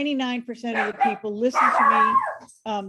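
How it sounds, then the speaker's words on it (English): A dog yips and barks indoors as it comes into the room, short sharp calls mixed in and around someone speaking close by. "That's my dog"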